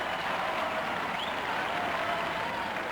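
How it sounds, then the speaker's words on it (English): Applause from the studio audience of a Robot Wars US heat fills the space in a steady, even roar of clapping, faint and somewhat distant, with no voices over it. "Let's have a great round of applause for all these teams"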